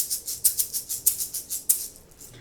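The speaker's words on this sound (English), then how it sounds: "So you've probably seen these egg shakers. It makes a shaking sound." An egg shaker shaken in a brisk, even rhythm of about nine crisp, sandy rattles that fade out at the end, close and clear with no one speaking.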